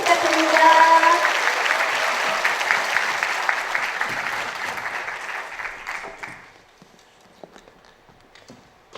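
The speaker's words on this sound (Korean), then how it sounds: "큰 박수 부탁드립니다" A talk concert audience breaks into strong applause that holds for several seconds, then thins out into scattered claps and fades.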